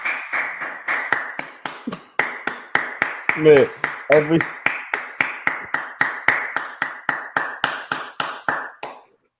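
Hand clapping, a long steady run of sharp claps at a quick even rhythm, close and loud, with a short spoken remark and a brief vocal burst partway through.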